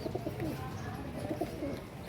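A white pigeon with white eyes coos softly in repeated low, throaty phrases over a murky background hum.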